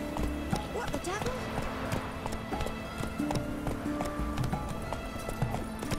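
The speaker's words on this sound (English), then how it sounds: "Whoa there, Roach. Halt" Horse hooves clip-clopping at a run in the video game Witcher 3, with an occasional whinny, steady and fairly close throughout; a voice speaks over the hoofbeats.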